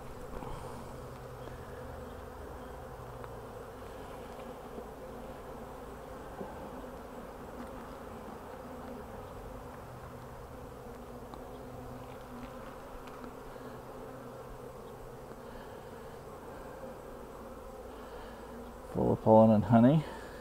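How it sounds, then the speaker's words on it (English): Honey bees buzz steadily around an open hive frame of honey and pollen. A soft, continuous drone holds under the whole stretch, with a brief louder rustle near the end. "Definitely not as many bees as I would have imagined."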